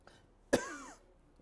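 A single short, sharp cough close to the microphone on a TV news studio set, in an otherwise quiet moment.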